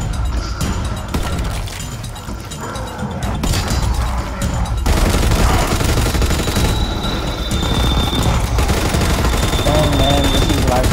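Machine gun fire in Call of Duty WWII Nazi Zombies, a loud, dense stream of rapid shots with explosions and crashing effects, while people talk excitedly over the gameplay.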